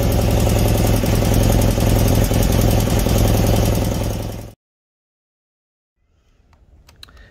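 A 1976 BMW R90/6 airhead motorcycle engine runs loud and close with a steady, even idle rhythm for about four and a half seconds, then cuts off abruptly, leaving near silence with a few faint clicks.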